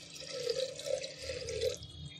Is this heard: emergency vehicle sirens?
no